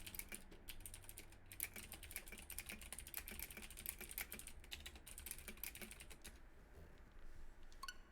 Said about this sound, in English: with my very loud keyboard